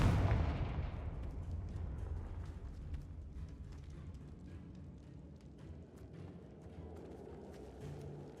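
A Confringo fire spell blast from Hogwarts Legacy erupts in a booming burst, then a rumbling, crackling tail of debris fades out over several seconds.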